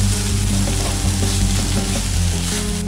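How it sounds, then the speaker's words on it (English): Onions sauté in a pan with ginger garlic paste, green chili and a little salt, producing a soft, steady sizzle under a loud constant low hum, with no speech. "Saute for couple of minutes until the onion turns soft and golden brown."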